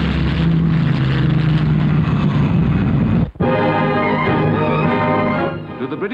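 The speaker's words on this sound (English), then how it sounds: "Here is another new means of propulsion, the turbine propeller." A loud, steady turboprop aircraft engine drone with a brief dropout midway, then continuing and tapering slightly at the end.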